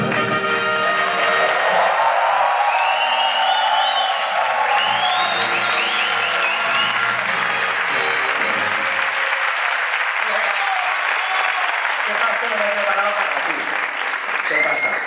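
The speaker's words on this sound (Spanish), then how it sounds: "un aplauso así es muy gratificante para un artista" An audience at an awards gala for the games industry applauds and cheers steadily, with dense clapping, whoops and shouts from a large crowd holding at full strength throughout, while a voice is heard talking within the noise.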